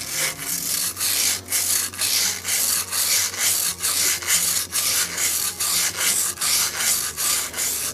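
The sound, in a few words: sanding Evinrude outboard head with wet and dry sandpaper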